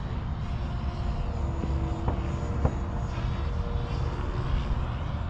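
An Eflite F-16 Thunderbird electric RC jet on 6S power screams past at full throttle during a low pass, a steady loud whooshing roar that holds throughout.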